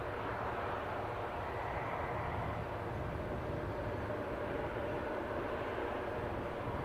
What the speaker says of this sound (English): This aircraft departing for Sunborough, Shetlands.